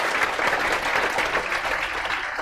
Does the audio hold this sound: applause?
yes